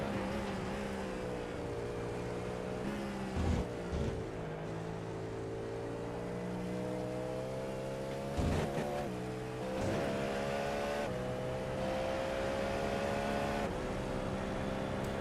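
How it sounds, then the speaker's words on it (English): Race car engines from a Le Mans Ultimate replay in the video game, a steady sustained drone with layered harmonic whine, punctuated by brief louder bursts of revving or cars passing by. "I don't have a different explanation of what's going on with the engine sounds here"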